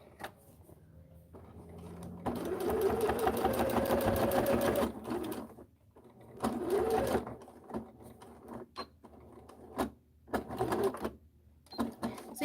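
Sewing machine stitching and backstitching runs in loud, rapid mechanical bursts, with short pauses and quieter stretches between the runs.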